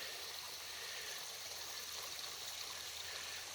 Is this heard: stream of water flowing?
yes